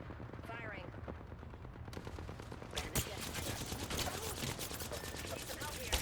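Rapid bursts of automatic gunfire from the video game Apex Legends, fought around a small house. The shots start sparse, then become dense, sustained and loud after the first few seconds, and a voice speaks briefly underneath.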